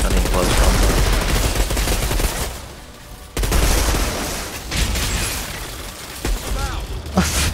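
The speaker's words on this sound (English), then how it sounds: "it's rare I use that gun in close combat." Dense bursts of gunfire from a gun in the co-op shooter game Outriders, loud and sustained with rapid volleys, a brief lull midway, then renewed firing and sharp impacts.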